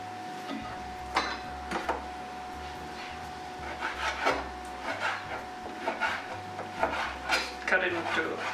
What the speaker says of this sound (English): now we're gonna cut the meat.